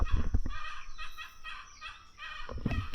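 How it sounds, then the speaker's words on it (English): An unhappy hen near a CAT 289D3 skid steer lets out a burst of agitated, squawking clucks, then quieter grumbling calls and another sharp outburst near the end. "Unhappy hen."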